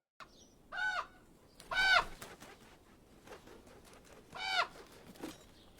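A crow caws three times, with harsh calls separated by short pauses and soft wing flapping in between, heard at moderate distance in a quiet setting.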